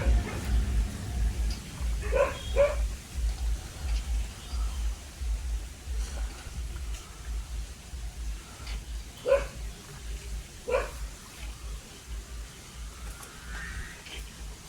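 A dog barks in a few short bursts at mid distance, with scattered yips spread across a steady low rumbling background of outdoor noise.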